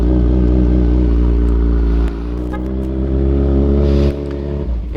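A Kawasaki Z1000 Sugomi naked motorcycle engine runs loud and close, its idle rising in revs and settling back twice over several seconds.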